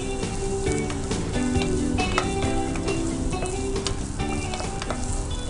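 Chicken fries in hot oil with green chillies for fried rice, a loud, continuous crackling sizzle broken by sharp spatters and occasional stirring clatter, with no one talking.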